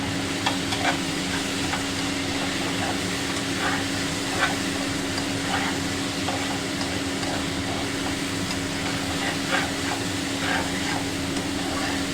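Ginger and garlic paste fries in a pan with a steady, close sizzle, broken by frequent light stirring scrapes throughout, over a low background hum and no talk.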